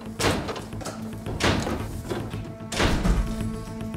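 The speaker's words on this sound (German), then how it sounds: "Im Theater brechen sie viele weitere Türen auf." Burglars break open doors inside a theater: three heavy thuds and bangs land about a second apart, each with a short rattling tail, over a low background hum.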